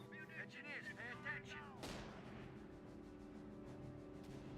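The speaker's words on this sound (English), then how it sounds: "Just the enemy shooting." Enemy gunfire and artillery in a real-time strategy war game, with a loud blast partway through followed by a rumbling tail and distant crackling shots, while someone talks over the first part.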